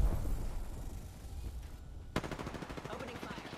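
Gunfire in the shooter game Apex Legends, a rapid rattling volley of shots that starts with a sharp crack and keeps going as a fast automatic burst over a busy game background.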